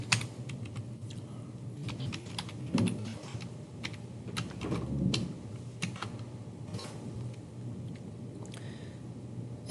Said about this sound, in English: So if you go to the login, you're going to type in your information.